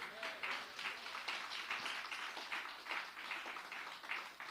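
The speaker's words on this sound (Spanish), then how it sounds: "Denle ese aplauso al Señor" A church congregation applauds in a steady, dense wash of clapping that sounds soft and distant throughout.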